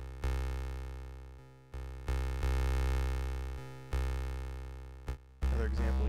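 Synthesized notes repeat in echoes with gain starting low and growing louder by a factor of 1.4 each repeat, each sustained tone attacking sharply then decaying, several in sequence with a brief glitchy burst near the end.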